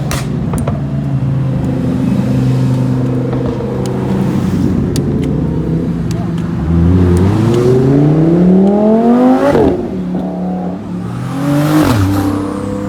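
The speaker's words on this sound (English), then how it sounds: "it's also good for a bit of a rally of sports cars" Sports cars on a rally near the Two Bridges Hotel on Dartmoor rev their engines and pass one after another, loud and close, with rising engine pitch as each accelerates by and a brief whoosh at the end.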